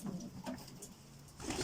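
Domestic pigeons cooing in a loft, a few soft low coos rising and falling over steady background noise, fairly close.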